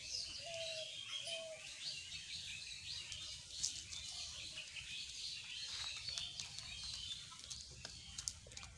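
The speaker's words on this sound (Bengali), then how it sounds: "এই যে আমাদের লালু, এই মুরগিগুলো আবার খাবারে আসে, নষ্ট করে দেবে" Backyard chickens near their feed give faint, scattered chirps and calls against a steady outdoor background, with no voices.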